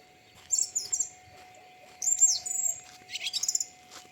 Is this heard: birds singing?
yes